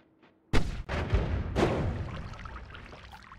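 Weapon fire in the Noita video game: a sharp burst starting half a second in, a second heavy blast near 1.6 seconds, then a long fading rumble and crackle.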